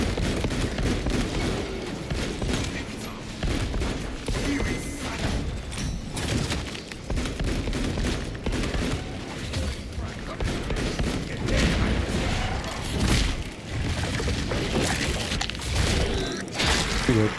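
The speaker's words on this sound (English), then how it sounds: "Flash grenade!" A flash grenade goes off amid constant gunfire and booming combat in the video game Space Marine 2, the blast buried in a loud, unbroken battle din.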